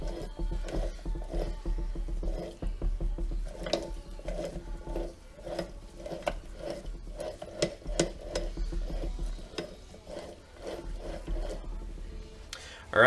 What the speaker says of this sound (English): I'm spinning the input shaft, and we've got nothing on the sprocket side there